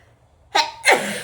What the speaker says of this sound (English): I'm gonna sneeze. My allergies are so bad today.